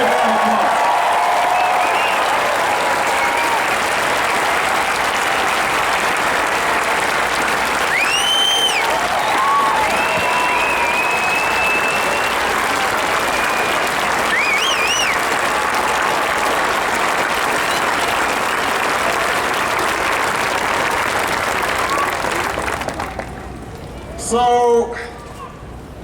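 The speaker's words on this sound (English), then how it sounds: "Give him a big round of applause." An outdoor crowd at the Lake Tahoe Summit applauds Harry Reid in sustained, dense clapping with scattered cheers and whistles for over twenty seconds, fading as a voice begins near the end.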